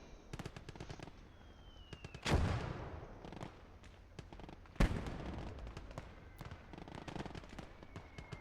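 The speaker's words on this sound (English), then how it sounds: "We've got our own mortar fire coming in too, so just absolute carnage in the middle." Mortar fire landing in the Gates of Hell: Ostfront battlefield, with two heavy explosions booming out amid a steady crackle of distant small-arms and machine-gun fire.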